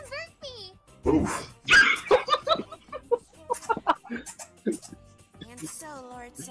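A dog barks in a few quick bursts amid a comedic Persona 3 Abridged parody, mixed in with lively talking and laughter from multiple voices.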